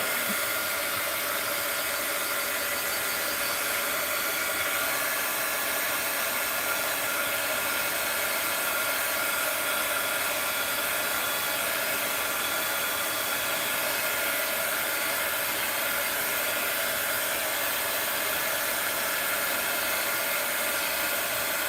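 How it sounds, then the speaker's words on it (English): A heat gun blows steadily at close range to dry alcohol ink, a loud, constant fan whir and rushing-air roar that holds unchanged throughout without interruption. "I might give it a little heat gun blast here. Heat gun alert."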